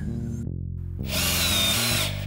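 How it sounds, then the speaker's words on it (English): A power drill whines at steady speed, stops briefly, then spins up again with a harsher grinding bite as it bores pilot holes into wood. "I drill some pilot holes slightly bigger in diameter than the screws, only on one piece of wood"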